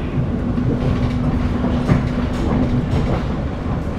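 KA Parahyangan passenger train running on rails, heard from onboard as a steady rumbling roll with faint rhythmic clatter and a brief tonal hum, loud and continuous with no talking.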